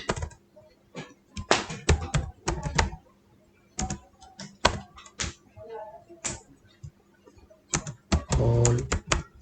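Quick bursts of key clatter from a computer keyboard, close and crisp, arriving in irregular clusters with short pauses between them and a faint steady hum behind.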